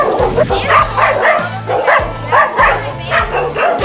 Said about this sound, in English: the dogs are greeting us